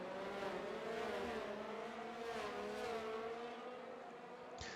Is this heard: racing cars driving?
yes